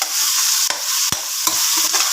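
Tomatoes sauté in a hot pan for sinigang na salmon, giving a loud, continuous hissing sizzle broken by a few quick scrapes of the stirring spoon.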